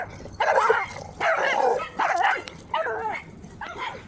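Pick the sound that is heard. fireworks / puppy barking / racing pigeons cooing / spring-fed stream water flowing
puppy barking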